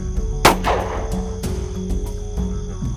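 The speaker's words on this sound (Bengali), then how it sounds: "তবু আমি আন্দাজে গুলি ছুঁড়লাম।" A single rifle shot rings out in open moonlit country, a sharp crack followed by a short fading tail, over a low steady background.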